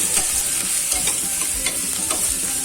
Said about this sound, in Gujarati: આ રીતના આપણે એકદમ સરસ મિક્સ કરી દેવાનું છે